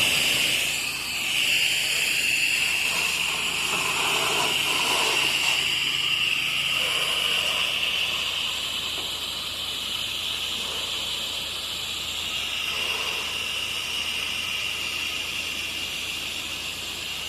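A pressure washer rinsing down a surface, giving a loud, continuous close hiss of spray that holds steady throughout with slight shifts in intensity.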